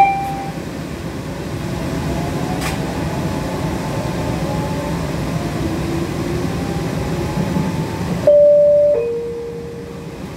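An MBTA Green Line CAF Type 9 light-rail train on the B Branch outbound toward Boston College rumbles steadily from inside the car, with rising motor whines, then slows with a brief tonal squeal near the end.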